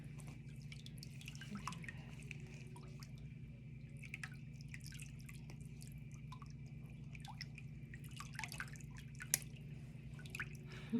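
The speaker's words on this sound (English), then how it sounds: "The sound of the water is so relaxing." Water runs softly and drips in scattered, irregular drops during a pedicure, faint and continuous over a low steady hum with no talking.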